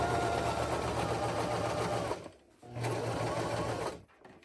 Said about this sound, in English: I like to do a little back stitch just to secure the stitches for now.